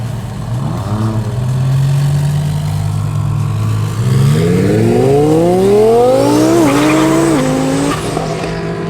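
Roll racing cars, a B2R Motorsport Toyota Supra against a Lamborghini, idle loudly then accelerate hard, engine notes climbing through several rising gear pulls with a brief shift dip, continuous and close throughout.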